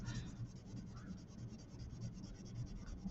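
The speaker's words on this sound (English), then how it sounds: "now I'm going to go ahead in with my purple pencil" A purple colored pencil scratches steadily across paper while coloring a Kusama-inspired pumpkin, a soft, continuous close-up scratching with a faint rhythmic stroke pattern and no talk.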